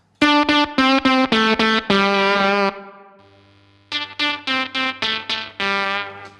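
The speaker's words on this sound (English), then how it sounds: "So with quite a gated fuzz sound like this," An electric guitar runs through a Fuzz Face fuzz pedal with a gated, sputtering tone, playing short choppy repeated notes that cut off abruptly, followed by a sustained chord and another run of clipped stabs.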